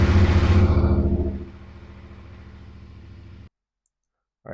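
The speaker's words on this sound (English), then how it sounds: "let's start the bike just for a minute." A 2025 IBEX 450 motorcycle engine fires up indoors in a garage, a loud throbbing run that settles into a steady idle before cutting off abruptly.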